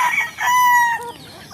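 A free-range village rooster crows nearby in one clear, drawn-out call, with faint clucking from other foraging chickens around it.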